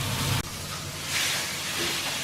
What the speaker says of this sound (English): mine and my husband's steaks are in the frying pan